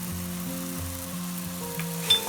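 Turmeric, red chilli and crushed chilli fry in hot oil for brinjal bharta, a steady soft sizzle with no pauses and a faint clink near the end.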